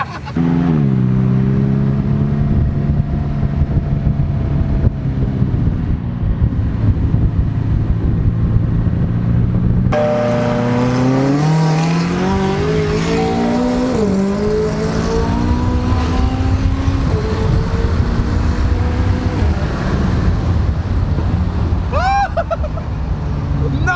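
A BMW M3 pulls hard on a track, its engine note climbing through rising harmonics after a gear change, loud and continuous with wind roar, while people talk inside the cabin.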